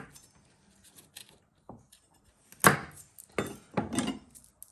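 A knife trims the ends off garlic, giving a few sharp, separate chopping taps on a board, quiet and close, with short pauses between cuts.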